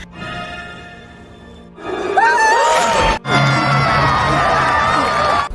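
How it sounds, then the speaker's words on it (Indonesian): A crowd of villagers in a film bursts into loud, joyful cheering and shouting after a quieter opening, with whoops carrying on steadily through the rest, briefly cut by a pause. "para warga yang bersorak kegirangan layaknya sedang melihat sirkus"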